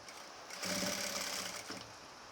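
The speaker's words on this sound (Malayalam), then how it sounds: "എന്നിട്ട് ഇതേപോലെ സ്റ്റിച്ച് ചെയ്ത് നമുക്ക് കൊടുക്കുക" A sewing machine stitches nightie fabric in one steady, close whirring run of about a second, starting and stopping abruptly, with no talk over it.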